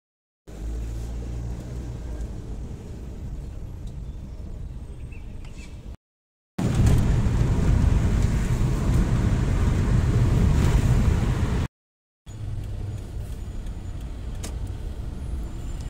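A car drives along a road toward an expressway, heard from inside as a steady low rumble of road and engine noise. There are three continuous stretches separated by brief silent gaps, and the middle stretch is louder.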